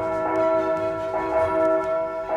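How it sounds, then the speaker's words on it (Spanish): Church bells peal in a large city, several resonant strikes ringing out and overlapping in an uneven rhythm, loud and alone without any voices. "En la enorme ciudad, las campanas repicaban."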